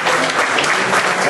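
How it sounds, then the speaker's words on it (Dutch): A crowd of residents at a Belgian care home breaks into steady applause for a film star, dense and continuous clapping that carries on throughout without a pause or any voice on top. "Een groot applaus voor ons filmster."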